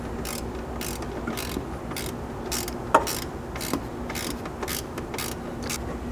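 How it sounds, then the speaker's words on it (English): A 13 mm ratchet wrench tightens air compressor mounting bracket bolts on a Toyota 4Runner, giving rhythmic, close clicking bursts of the pawl in repeated strokes with small metallic knocks between. "grab a 13mm, preferably ratchet wrench, And you can come in through the window here in the top of our bracket to tighten these up"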